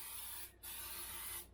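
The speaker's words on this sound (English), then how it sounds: "we like using non-stick spray" Non-stick cooking spray hisses into a non-stick pan in two close, steady bursts, the second longer than the first, with a short gap between them.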